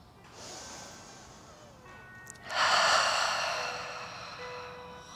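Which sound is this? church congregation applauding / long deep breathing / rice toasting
long deep breathing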